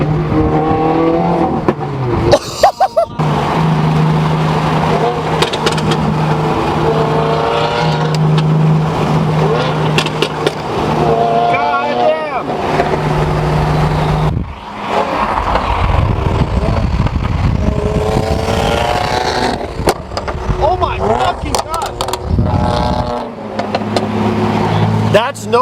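A 2015+ Subaru WRX with a catless downpipe and stage 2 tune roars loudly under acceleration, with sustained engine and exhaust noise and rising revs, while excited voices talk and shout over it.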